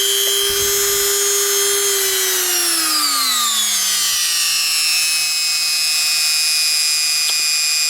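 A Chinese Dremel-knockoff rotary tool running on speed 1, its loud, close, high-pitched motor whine gliding downward in pitch before settling into a steady drone.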